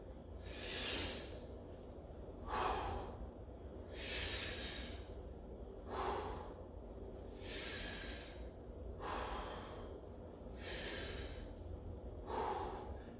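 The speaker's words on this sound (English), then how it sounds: "So breathing in." Heavy, rhythmic breathing from a person doing squats with overhead presses, about six forceful hissing exhales spaced roughly two seconds apart, close to the microphone with no talking.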